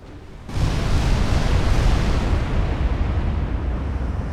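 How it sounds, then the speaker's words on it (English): Long-range naval artillery firing in Ultimate Admiral Dreadnoughts, a 1955 Ottoman campaign battle: after a brief quiet moment, a loud, sustained rumbling boom sets in and rolls on as a heavy, noisy wash with no talk. "They are firing back now."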